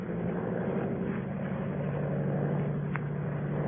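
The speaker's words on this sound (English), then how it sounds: "Low down in the south, a monoplane was climbing into the heavens." A monoplane's propeller engine drones steadily as it climbs, a radio drama sound effect from a classic broadcast of The Thirty-Nine Steps, heard as a constant mid-distance hum with no voices.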